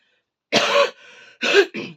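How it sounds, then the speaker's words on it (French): A woman coughs and clears her throat in a short, close burst: a harsh cough, a softer rasping pause, then two more quick coughs. "Je suis désolée de tousser,"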